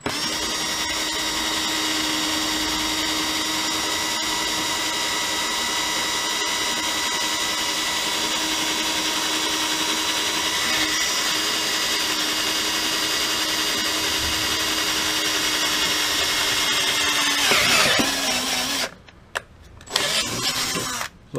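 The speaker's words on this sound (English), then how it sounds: "So I'm going to drill those four holes and then we'll start pop riveting." A power drill whines steadily and loudly up close while boring holes for pop rivets on a Toyota Prius catalytic converter shield, its pitch dipping near the end before stopping and restarting in short bursts.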